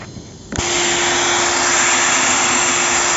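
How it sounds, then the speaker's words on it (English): A power drill or polisher with a sponge wheel buffs a car headlight, starting abruptly and settling into a loud, steady, close whirring drone with a constant hum tone and broadband hiss that runs unbroken to the end. "I'm gonna put it on the wheel there, the sponge, and that's what I'm gonna use to try to polish it a little bit."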